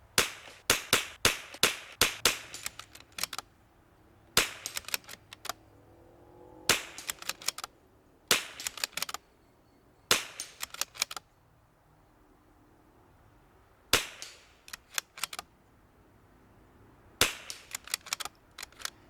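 Precision rifle fitted with a Timney trigger fires at a quarter-inch target at 50 yards, loud sharp cracks in irregular bursts of several shots with quiet gaps between, no talking.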